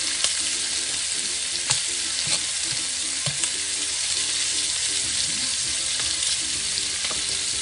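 Steak fries in melted butter with garlic in a hot pan, giving a loud, constant sizzle and crackle with occasional sharper pops and spatters. The sound stays close and steady throughout, with no voices over it.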